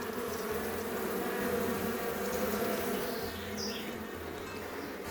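Honey bees buzz continuously around an apiary, a steady mid-pitched hum of many wings close by, with occasional individual bees passing nearer; no talk.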